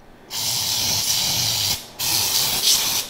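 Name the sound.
spraying parchment-lined loaf pan with cooking spray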